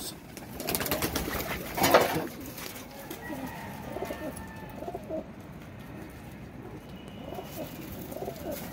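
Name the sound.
pigeons cooing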